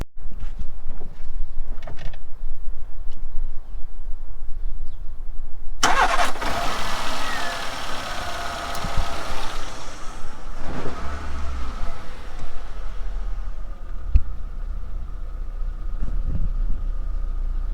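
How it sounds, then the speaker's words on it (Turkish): A Renault Clio engine, just fitted with a new idle control valve and throttle position sensor, cranks, catches and rises into a loud rev, then drops to a steady low idle rumble, close by with no talking. "Bir çalıştırıp sesini dinleyelim."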